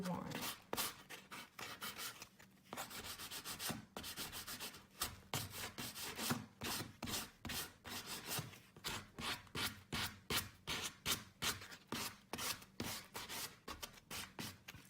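Sandpaper rubbed by hand over the edges of a chalk-painted wooden executive desk to distress it, giving close, steady back-and-forth scraping strokes in a quick, regular rhythm that continues throughout.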